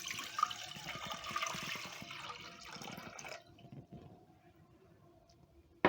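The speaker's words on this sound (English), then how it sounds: "in my pot I'm going to add 2 cups of water" Two cups of cold water run and splash into a cooking pot for a few seconds, then stop, leaving faint quiet and a brief clunk at the end.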